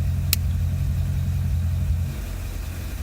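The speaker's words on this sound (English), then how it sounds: "Listen to the exhaust." Corvette C6 Z06 with an NPP exhaust, running steadily with a deep low rumble throughout, close by, dropping slightly quieter near the end as the valves close.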